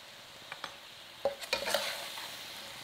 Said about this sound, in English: Fry that all together on that high heat, tossing everything together until warm through.